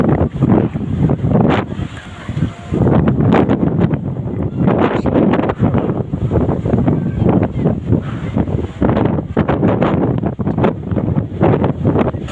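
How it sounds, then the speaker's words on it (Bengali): Strong storm wind gusts roar loudly and continuously across the microphone, rumbling and buffeting in uneven surges throughout. "দেখুন বাতাসের প্রচন্ড বেগ।"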